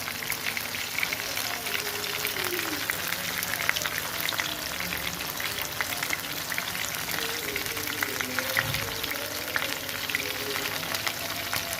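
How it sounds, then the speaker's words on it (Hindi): Chicken frying in a single pot for butter garlic chicken rice gives a steady, continuous crackling sizzle that holds at an even, moderate level throughout. "ये हमारा चिकन जो है ये फ्राई हो रहा है।"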